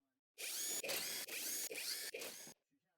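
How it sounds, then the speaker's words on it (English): An electric impact wrench with a 19mm socket removes lug nuts from a lifted Honda Civic FK, running in about five rapid buzzing bursts over two seconds before stopping, close and loud, with no voices. "Use a 19mm socket with the electric impact to finish removing the lug nuts."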